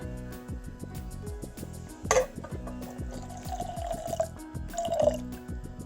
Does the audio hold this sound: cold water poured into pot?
yes